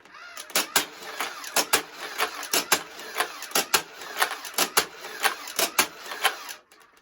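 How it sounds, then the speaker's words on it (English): A Nerf N-Strike Vulcan EBF-25 belt-fed gatling blaster fires and chambers in a rapid series of sharp mechanical clacks, about two dozen evenly paced shots, loud and close, then stops. "Whenever you fire this blaster, it will chamber it out right here."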